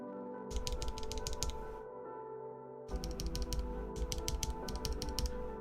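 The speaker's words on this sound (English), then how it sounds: "You can finally get this type of sound out of this keyboard" Rapid clacky typing on a mechanical keyboard with Bad Seed Tactile switches, close and crisp, in quick bursts with a short pause partway through.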